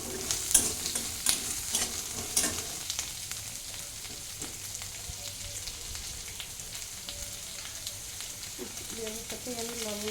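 Mango pieces fry in a pan for a mango dal, with a steady close sizzle and repeated scraping and stirring strokes of a spatula, fairly quiet and with no talk.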